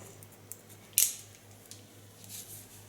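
Scissors snip while cutting a woman's hair in a salon, one crisp close snip with a couple of faint clicks around it, over a quiet hum.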